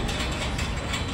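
Hand ratchet tightening nuts while a wall unit is set up, a quick run of close, crisp clicking pawl strokes heard on its own.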